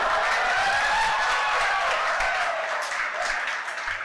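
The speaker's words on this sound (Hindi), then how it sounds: "शाबाश, ताली बजाओ तेरे लिए।" Students in a JEE maths lecture class clap together, a steady, dense patter of applause that holds for about four seconds and eases slightly toward the end.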